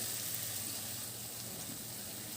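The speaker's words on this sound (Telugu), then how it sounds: "వేసుకున్నాక ఈ విధంగా మొత్తం బాగా కలిసేలాగా కలుపుకోవాలి." Ground chana dal paste frying in a pan as it is stirred, giving a steady, close hiss and sizzle with faint scraping.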